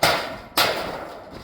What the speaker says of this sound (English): He's using the hammer and the chisel